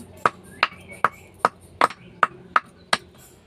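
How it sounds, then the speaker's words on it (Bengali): Two cardamom pods being crushed in a kitchen: eight sharp, evenly spaced knocks, each a short crisp thud with a quiet pause between. "এবার 2টো এলাচ আমি থেঁতো করে নেব"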